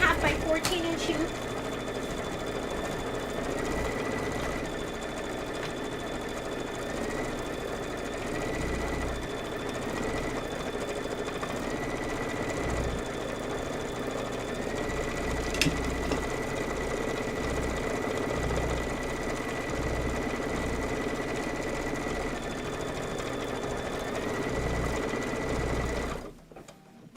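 Embroidery sewing machine stitching a butterfly quilt block in a large 9.5 by 14 inch hoop, a steady mechanical whir with rhythmic needle chatter that runs nonstop for nearly half a minute before stopping.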